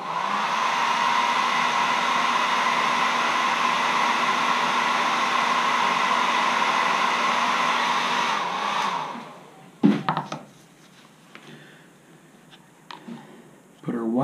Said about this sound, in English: we hit that with a dryer.